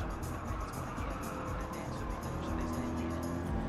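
Engine drone of a Ford Mustang in a sim racing game, played on a Logitech G Pro wheel, holds steady and fairly loud throughout with faint tire noise, and no voices.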